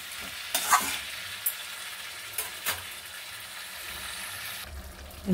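Vegetables with red amaranth stalks and a hilsa fish head sizzle in a pan as water is poured in, giving a steady close hiss broken by a few brief louder bursts and a swell at the end.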